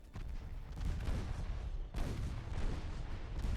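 Naval gunfire and shell hits from a warship battle in Ultimate Admiral Dreadnoughts: a steady roar of heavy booming salvos, dense and continuous, with a fresh loud burst of impacts partway through.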